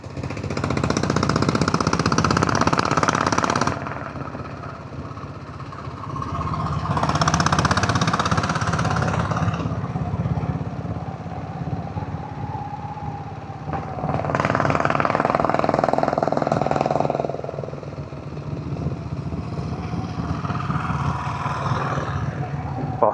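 A diesel Bullet motorcycle riding downhill through the Jawadhu Hills gives a steady, close, thumping engine chug with wind roar swelling and fading in waves over the whole ride.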